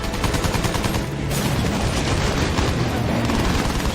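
Gunners firing at a plane in the World War I shooter Battlefield 1, a dense, loud barrage of rapid gunfire and booms that continues with no let-up.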